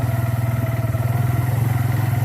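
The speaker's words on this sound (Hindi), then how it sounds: "तो काफ़ी दिनों के बाद जो है ना वो आज बाइक के ऊपर सफ़र किया" A motorcycle engine drones steadily and loudly at a constant pace with a pulsing low rumble, as the bike rides along an unpaved village dirt road and nobody speaks.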